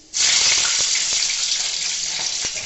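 Dried chillies and Bengali five-spice seeds (panch phoron) hit hot oil with a sudden loud burst of sizzling. A dense, close, hissing fry holds steady afterward.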